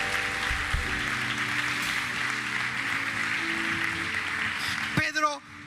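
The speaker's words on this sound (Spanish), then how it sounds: "Vamos a dar un aplauso fuerte al Señor." A church congregation gives strong applause to the Lord during a Spanish-language service, a steady broad clapping roar under sustained keyboard-like tones, ending abruptly with a brief voice.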